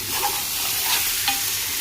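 Steady sizzling of mutton frying in a pot, with a spoon scraping and stirring through it a few times, close and fairly loud.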